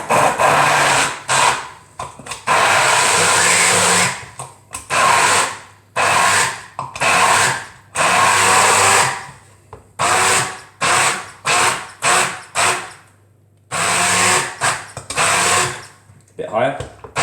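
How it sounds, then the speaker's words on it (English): Stick blender pureeing food in a kitchen, whirring in repeated short bursts of a second or two separated by brief pauses, loud and close. "So, stick blender, make the puree."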